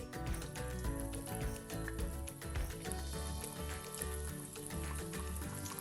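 Small stuffed bhakarwadi snacks fry in oil over medium heat, a steady, even sizzle running under prominent background music.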